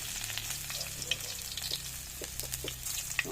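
Garlic frying in a pan over a wood fire for eggplant adobo, a steady close sizzle with occasional stirring clicks and pops, no talking.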